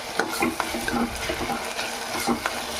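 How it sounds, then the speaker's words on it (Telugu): A ladle stirs country chicken curry in a hot pot, giving repeated scraping strokes over a steady sizzle, close and moderately loud. "బాగా గరిట పెట్టి తిప్పుకుందాం"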